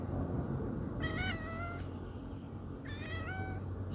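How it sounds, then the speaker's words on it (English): A pet female house cat meows twice, each call a drawn-out, wavering mew heard close up over a constant low background hum. "And here is my kitty."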